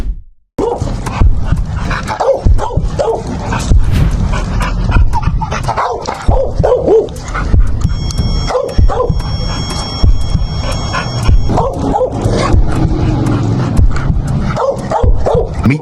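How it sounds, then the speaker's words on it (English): A reactive dog barks, yips and whimpers close by in repeated, loud bursts that continue almost without pause, with a steady background underneath. "Meet Storm, a dog who initially struggled with aggressive reactivity on leash, particularly around men."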